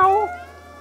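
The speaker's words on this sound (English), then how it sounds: "Let's see, to meow? Meow!" A cat meows once in the video game Stray, a short rising-and-falling mew that fades quickly over a steady low hum.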